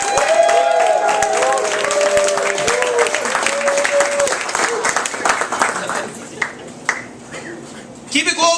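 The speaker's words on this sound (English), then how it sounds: "If you could applause again, because I appreciate that." An audience at a comedy roast for a bakery and cafe's second anniversary breaks into loud, sustained applause with cheers and whoops, a voice talking over the crowd before the clapping thins out.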